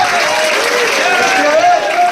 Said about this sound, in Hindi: हमारे अंजुल भाई के लिए जोरदार तालियों से लोग स्वागत करेंगे